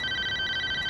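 A telephone rings with a bright electronic tone warbling in rapid pulses, fairly quiet and alone for about a second before cutting off.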